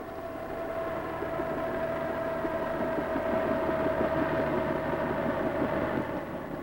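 A military medical evacuation helicopter arrives, heard as a steady, even droning rumble with a sustained engine tone throughout, and no voices.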